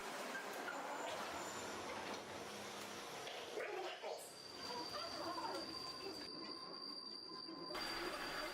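A London Underground train runs through the tunnels near Piccadilly Circus, giving a loud, continuous rumble with high-pitched wheel squeal and rattling carriages.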